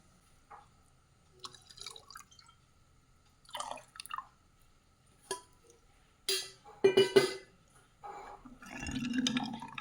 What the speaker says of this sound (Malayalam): ഞാൻ ഈ പാത്രം കഴുകി ഇത്തിരി വെള്ളവും കൂടെ ഒഴിക്കട്ടെ